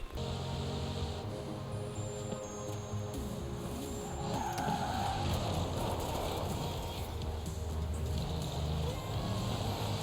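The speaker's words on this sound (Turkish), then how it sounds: "Bu kadar kayan bir araba daha var mı ya?" Bugatti Veyron in the racing game Forza Horizon 4 sliding and skidding, with steady loud engine drone and tire noise throughout, plus a faint voice now and then.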